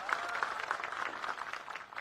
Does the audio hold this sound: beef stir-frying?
no